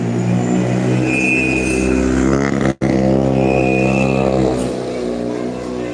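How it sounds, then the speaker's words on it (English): A WRC rally car idles and creeps through the Jyväskylä service park at Rally Finland, a loud, steady, close engine drone with a brief cut midway, as someone talks over it. "the cars come driving in here through the public"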